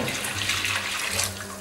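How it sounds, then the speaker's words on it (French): Broth poured into a pot to make a sugar syrup for candied figs, a steady, close liquid splash and trickle that runs without a break throughout. "Donc j'y ajoute le bouillon."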